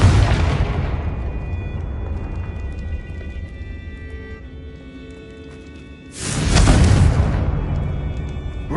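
Two loud booming blasts from a Confringo spell in a video game, the first fading into a long rumbling tail, the second erupting abruptly near the end with a broad roaring burst.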